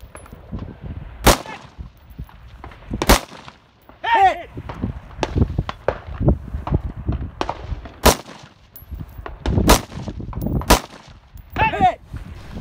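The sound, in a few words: rifle gunfire hitting steel targets at 300-400 yards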